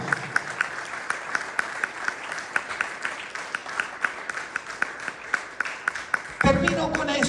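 A church congregation applauds steadily during a sermon, with sharp claps ringing out in an irregular rhythm, and a voice starts speaking near the end.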